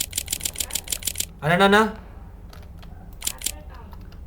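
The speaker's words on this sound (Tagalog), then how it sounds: "Okay, unlimited yung shutter niya, guys. So, picture na tayo ng picture." Rapid camera shutter clicks fire in continuous bursts, a run of evenly spaced sharp clicks, then a pause while a voice speaks briefly, then a few more clicks, close and clear.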